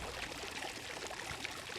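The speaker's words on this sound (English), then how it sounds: "Ready, let's start filling the pool." Water pouring into a pool in a video game, a steady hissing, gushing rush that lasts the whole short moment at constant loudness, with no voices.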